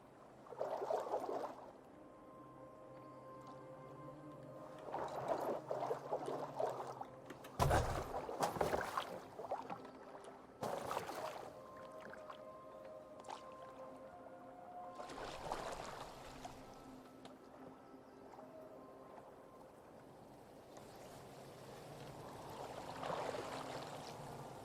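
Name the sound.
boat on water in Assassin's Creed Valhalla video game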